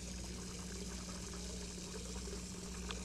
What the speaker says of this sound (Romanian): Bag apă, bag apiță.